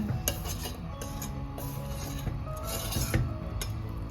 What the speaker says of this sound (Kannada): ಕೆಳಗಡೆ ಏನಾದರೂ ತಾಗಿದ್ರೆ ಒಮ್ಮೆ ಕೆಳಗಡೆಯಿಂದ ಈ ಥರ ಸೌಂಡ್ ಹಾಕಿ ಮಿಕ್ಸ್ ಮಾಡಿಕೊಡುವ